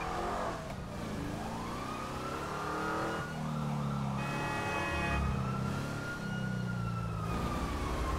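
A wailing police siren rises and falls in the video game GTA 5, sweeping steadily over a low rumbling car engine throughout.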